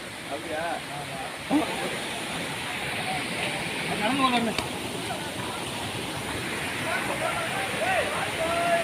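Water pouring down along a mountain trail, a steady rushing hiss of falling water with people talking over it throughout.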